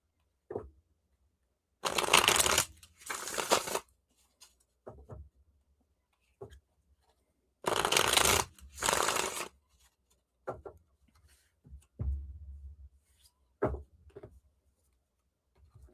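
Reading cards are shuffled in several separate bursts of dry papery riffling, close and fairly loud, with quiet pauses and small taps and handling noises between them.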